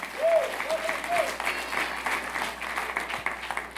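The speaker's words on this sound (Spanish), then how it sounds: "Dale un aplauso al Señor fuerte." A church congregation applauds the Lord at a preacher's call, a dense steady clapping throughout, fairly distant in the room, with a short sung or spoken voice early on.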